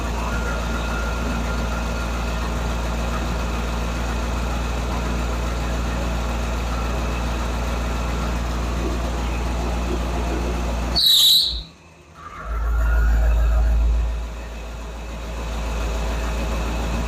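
A 1947 Ford COE truck engine with an exhaust leak idles steadily with a low, even drone, briefly broken by a sharp burst and a dip before the idle settles back in.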